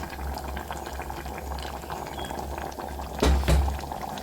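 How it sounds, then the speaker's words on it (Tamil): Coconut oil poured into bubbling aviyal: a steady simmering bubble close by, then a short louder splash of liquid near the end, with no voices. "கொஞ்சமாக தேங்காய் எண்ணெய் ஊற்றுறேங்க."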